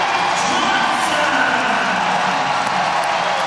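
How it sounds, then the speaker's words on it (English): A loud arena crowd roars continuously at an NC State versus Boston College women's college basketball game in Raleigh, a dense steady wash of cheering with no breaks. "Now the crowd is in the game."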